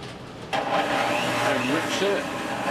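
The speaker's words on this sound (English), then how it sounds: "place the bucket on the mixer, put the paddle in the bucket," A stand mixer with its paddle mixes basic dough in the bucket, its motor kicking on after half a second into a steady whirring hum with a faint rising whine on top.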